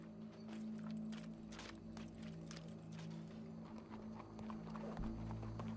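Horse hooves clip-clop steadily in Red Dead Redemption 2, a continuous rhythmic patter over a low game ambience hum, with no voices.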